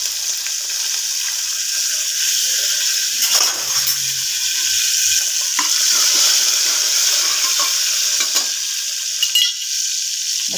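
Water is poured into a pot of sizzling tempering of mustard seeds, dried chillies and curry leaves while cooking Mangalore GSB-style white rice nuchi. It makes a loud, steady rushing hiss that lasts about ten seconds, with a few brief clinks.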